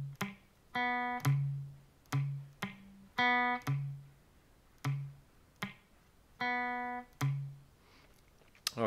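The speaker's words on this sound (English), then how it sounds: "You're going to palm mute the fifth string, palm mute the fourth string, open, hit the open third string, back to palm muted fifth string." Electric guitar riff on open strings, picked as short palm-muted chugs on the fifth and fourth strings alternating with ringing open third-string notes, a clean, close and moderately quiet repeating pattern with no voices.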